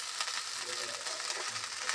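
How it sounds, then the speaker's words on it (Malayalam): Mashed lesser yam sautés in ghee in a pan while payasam is being made. A soft, steady sizzle and crackle continue throughout, quiet and close, with no talking. "എന്നിട്ട് നമ്മൾ ഈ കാച്ചിലൊന്ന് വഴറ്റിയെടുക്കുകയാണ്."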